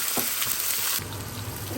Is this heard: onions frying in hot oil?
yes